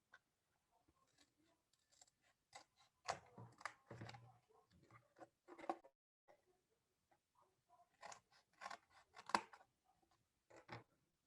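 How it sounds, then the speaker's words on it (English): Scissors cut out material in faint, quiet bursts of snipping and rustling, with short pauses between the groups of cuts. "now I will cut it out using scissors"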